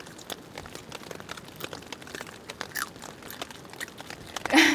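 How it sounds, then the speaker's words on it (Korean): Crispy grilled beef tripe is chewed close to the microphone at a rainy campsite, giving quiet irregular crunches and crackles with a louder rustle at the end. "들려요? 바삭바삭한 소리?"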